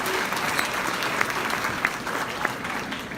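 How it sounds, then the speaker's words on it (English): An audience at an awards and dinner gala applauds, a steady, full patter of clapping that fills the short stretch without a break. "so can we have a round of applause for them?"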